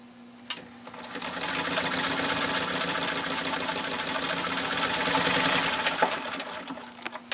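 A 1924 German-built Singer sewing machine stitches through 14 layers of heavy canvas binding tape, running as a fast, steady, close mechanical chatter that speeds up slightly near the end before stopping abruptly.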